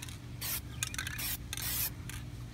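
An aerosol spray paint can hisses in several bursts, sprayed outdoors in the shade over an object being painted. The sprays come close and loud, some long and some short, with a steady low hum beneath and no talking.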